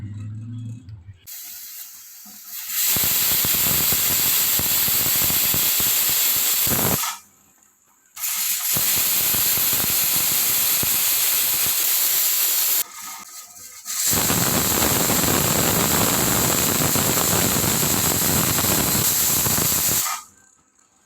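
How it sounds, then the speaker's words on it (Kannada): Pressure cooker cooking rice vents steam in three long, loud, close hissing bursts of several seconds each, separated by short quiet gaps, with no talk. "ಹೊಗೆ ಬರ್ತಾ ಇದೆ, ಈಗ ವೆಯ್ಟ್ ಇಡೋಣ."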